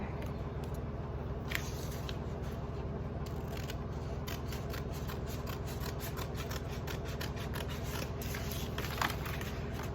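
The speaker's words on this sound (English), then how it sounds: "I'm gonna take my number 1 transfer right here and I'm gonna cut the edges out" Scissors trim the edges off a furniture transfer sheet in a steady series of quick snips and papery rustles, close up, over a constant low background hum.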